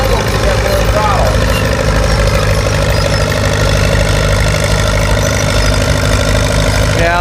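Pulling tractor engine at an antique tractor pull show, a loud continuous droning roar held at high throttle, with people talking over it throughout.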